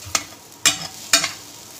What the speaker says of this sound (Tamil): இது எவ்வளோ நேரம் வதக்கணும்?